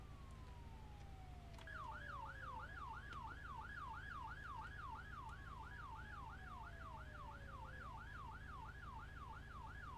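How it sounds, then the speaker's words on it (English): A synthetic vehicle siren in a video game wails steadily in a fast, repeating up-down pattern over a constant low engine hum, clean and loud throughout. "But it does have sirens."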